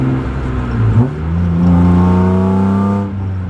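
A BMW E36's S52 six-cylinder engine with an M50 intake manifold revs up loudly and holds a raspy, rising whine before easing off, close by with no voices.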